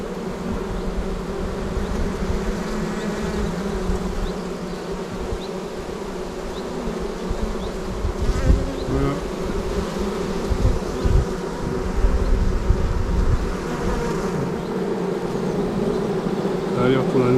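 A small swarm of honeybees clustered on a post beside the hives hums loudly and continuously, a dense close buzz with occasional louder passes, and a voice talks over it at times.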